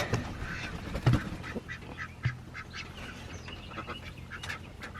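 Ducks on a homestead quacking repeatedly nearby, a busy overlapping series of calls with a few louder honk-like quacks and no talk.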